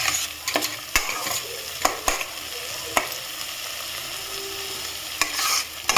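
Mustard water splashes into a frying pan for a fish curry, a close sizzle broken by repeated sharp clacks of a spatula stirring against the pan.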